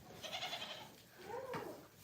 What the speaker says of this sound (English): So if you hear the goat screaming outside,